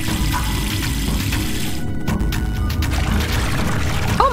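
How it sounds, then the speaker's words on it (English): Water from a tap pours steadily into a plugged sink in the video game Zero Time Dilemma, a continuous loud rushing flow that runs unbroken from start to finish. "Now to turn on the water."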